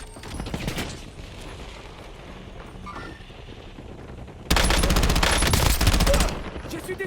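Video game gunfire: quiet scattered shots and mechanical clatter at first, then a loud burst of rapid automatic fire that sustains for nearly two seconds before cutting off.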